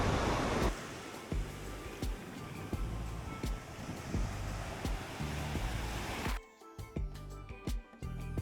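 Sea waves wash onto a beach at Devgad with a broad steady roar, broken by gusty buffets and scattered clicks, before the surf drops abruptly to a quieter, rougher rumble near the end.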